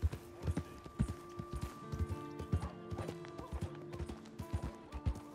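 Horse hooves clip-clop at a steady walking rhythm in the Red Dead Redemption 2 video game, the irregular thuds close and clear over a faint musical drone, with no talk.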